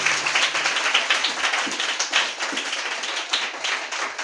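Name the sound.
congregation clapping loudly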